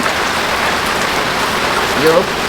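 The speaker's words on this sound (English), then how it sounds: "it's definitely raining outside today" Steady rain falls outside on a farm in Jamaica, a loud, even hiss of drops on surfaces that stays constant throughout, with a brief faint voice near the end.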